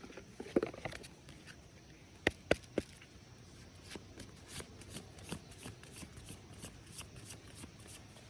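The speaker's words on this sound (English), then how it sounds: "They're kind of hard to shuffle because there's only literally, what is there, 12 cards." A small deck of only about twelve affirmation cards is shuffled by hand, giving soft, uneven papery riffles and taps with a few sharper snaps, quiet and close with no speech.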